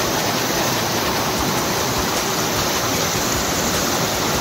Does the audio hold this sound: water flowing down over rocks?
yes